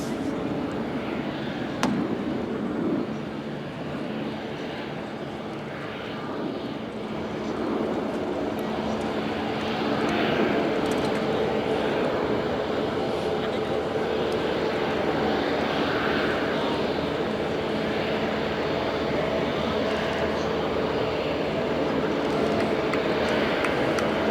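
An Airbus A350 XWB rolling out after landing with thrust reversers extended, a broad sustained engine roar heard close and continuous, with faint talk underneath.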